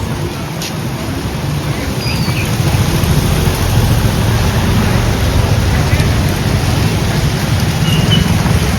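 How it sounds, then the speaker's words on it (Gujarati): Dense, loud rushing noise of heavy rain pouring steadily during a cyclone in Gariadhar, India, with a roaring wash that stays constant throughout. "ત્રણ ઇંચ વરસાદ"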